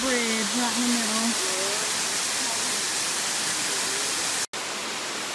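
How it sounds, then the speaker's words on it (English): A Smoky Mountains waterfall pours down beside a small bridge, producing a loud, steady, hissing roar throughout, while a voice speaks briefly over it at the start. "visit this waterfall"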